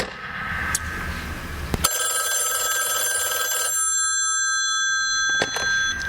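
An old telephone rings nearby, a few sharp bell-like tones followed by a sustained, steady electronic ring holding for several seconds.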